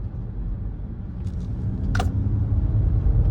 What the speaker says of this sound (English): It has a propulsion sound, which gives you a driver feedback.